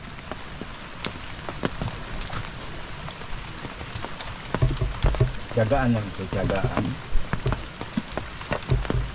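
Rain patters and drips steadily onto surfaces outdoors while firewood is being gathered, with heavier bursts of drops midway and someone speaking briefly.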